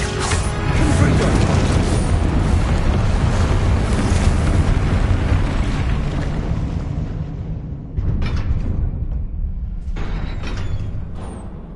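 A Confringo blasting spell explodes in a video game as a loud, sustained roaring blast that slowly fades, followed by a couple of shorter bursts near the end.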